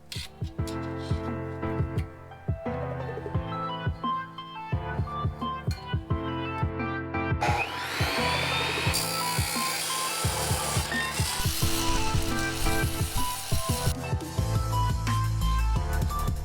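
A power tool cuts through a Datsun's exhaust pipe so V-band clamps can be fitted, starting with tapping and buzzing before a loud, sustained high-pitched cutting whine takes over. The sound is close and continuous, with no talking.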